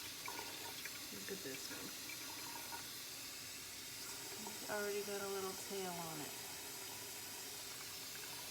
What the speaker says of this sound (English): I'm gonna fill this up to where they're sitting in water.